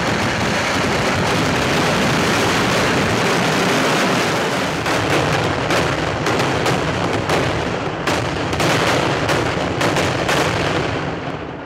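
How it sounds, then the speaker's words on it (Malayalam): Fireworks competition at the Thrissur Pooram festival, with a dense, continuous roar of bursts and crackling, sharp blasts piling on one another, loud and close, with no talk. "ഇന്നിനെ വെടിക്കിട്ട് കോമ്പിറ്റീഷൻ."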